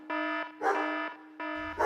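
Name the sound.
dogs barking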